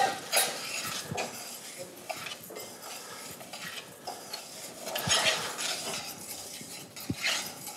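Rice being coated in fat in a pot to start a risotto, with a utensil clinking and scraping against the pan in irregular strokes over a soft, quiet background sizzle.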